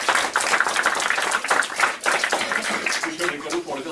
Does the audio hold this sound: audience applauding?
yes